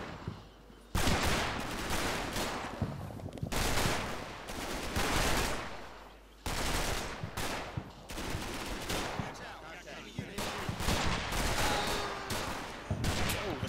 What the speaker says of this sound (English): looks like back there I've got 2 heavy machine gun teams firing on my position